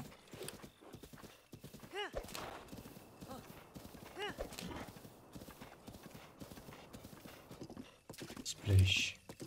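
Horse hooves clip-clopping at a gallop in The Legend of Zelda: Breath of the Wild, a quick rhythmic patter running throughout under a speaking player, with a louder thump near the end.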